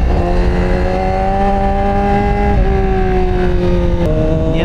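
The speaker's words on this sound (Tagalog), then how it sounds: "Masyado lang galit yung engine" A Honda CBR1000RR sport bike climbs an uphill mountain road, its engine revving loud and close with a steady high-pitched note that dips briefly at gear changes.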